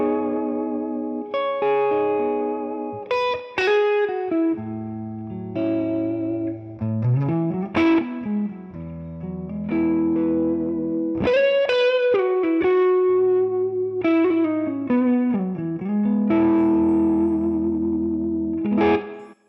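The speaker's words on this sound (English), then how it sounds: "so let's hear on the neck pickup with the same volume" A Gibson electric guitar on the neck pickup, coil split, plays a melodic phrase with chords and single notes, with a clean, slightly chorused and echoing tone throughout.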